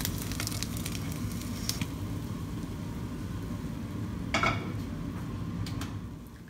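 Egg mixed with glass noodles fries in a hot pan, giving a steady close sizzle with a few sharp crackles and spatters, fading slightly at the very end.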